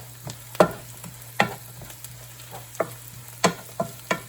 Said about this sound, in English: Let it get a little fragrant in the oil. Kind of stir that around.